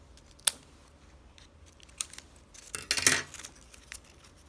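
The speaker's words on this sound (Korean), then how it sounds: "가위로 이쪽 부분까지" Scissors snipping origami paper to shape a folded dinosaur's beak: a few crisp, close snips and rustles of paper, with one longer cutting stroke in the middle, quiet room otherwise.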